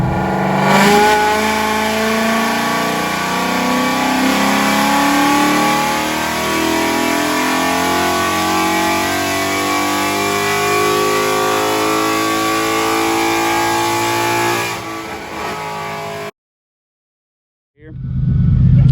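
A 2017 Ford Mustang GT fitted with a Nitrous Outlet ProMax nitrous system revs hard and continuously on a dyno pull from about 3500 to 6900 rpm, a loud steady engine roar that drops away into silence near the end.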